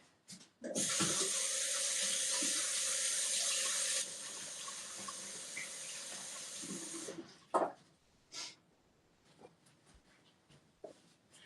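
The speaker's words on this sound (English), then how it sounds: "I'm going to quick rinse my fingers and then we'll talk." A kitchen tap runs hard for several seconds while fingers are rinsed under it during cinnamon roll making, then cuts off, followed by a few faint clunks and handling sounds.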